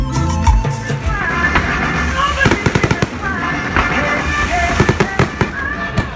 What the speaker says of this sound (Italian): Fuochi d'artificio direttamente dalla nostra postazione sul palco